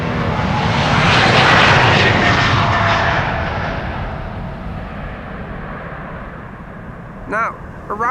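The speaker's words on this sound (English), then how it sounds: "That means that the A380 at least is going to land over here." An Airbus A380 lands at Amsterdam Schiphol Airport with a loud, broad jet roar that peaks early then slowly fades, with a brief faint chirp near the end.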